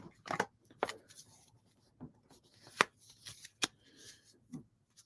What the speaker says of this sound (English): go to my card deck while y'all are typing